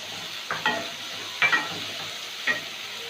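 Chopped garlic sizzles softly in a hot pan as a spatula scrapes and stirs it in three short, distinct strokes over a faint steady frying hiss.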